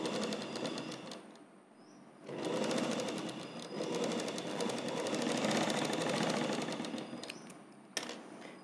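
A sewing machine stitches a petticoat in rapid, continuous runs of needle clatter, pausing briefly near the start before a long steady burst, then a quick stop and restart at the end.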